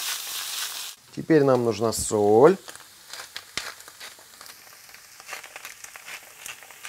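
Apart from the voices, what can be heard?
chanterelle mushrooms and onion frying in a pan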